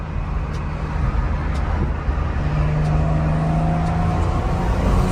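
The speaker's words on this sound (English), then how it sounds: "the car has to be warmed up first before you could hear the pops and bangs" A BMW 535i fitted with a Hellcat 525 fuel pump runs close by in a loud, steady exhaust drone that swells slightly, with only faint, sparse ticks rather than clear pops.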